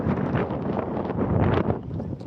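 Strong wind buffets the microphone outdoors near a fort, a loud, gusting rumble that swells and dips over a couple of seconds with no voices.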